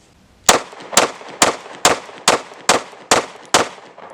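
Eight sharp pistol shots from a Ruger RXM fired rapidly at an even pace, each loud crack close by and followed by a short ringing decay.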